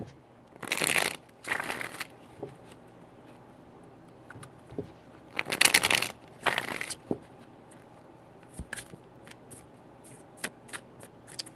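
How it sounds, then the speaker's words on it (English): Tarot cards shuffled by hand in three quick riffling bursts, crisp and close, separated by quiet pauses with faint handling taps between. "Three shuffles."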